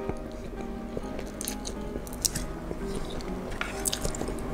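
Close, wet chewing and soft squishy bites of very spicy Malaysian instant noodles, steady mouth sounds with a few sharper clicks over a low background hum, no talking.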